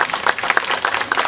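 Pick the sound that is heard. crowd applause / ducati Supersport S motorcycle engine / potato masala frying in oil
crowd applause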